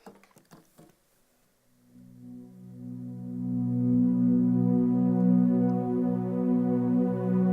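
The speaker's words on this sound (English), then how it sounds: "So it'll sound like this with the filter opening up." Keyboard plays a soft chord progression intro while a filter gradually opens, the sustained chords swelling from muffled and quiet to fuller and brighter, preceded by a few faint clicks.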